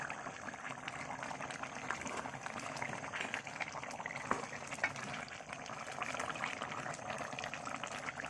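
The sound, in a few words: chicken curry boiling in a pot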